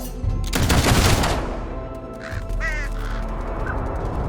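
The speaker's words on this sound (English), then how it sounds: "Ready! Take aim! Fire!" A soldiers' volley of gunfire in the video game Fable 3, a loud burst of several shots fired together, followed by a quieter rattle and distant bird-like caws.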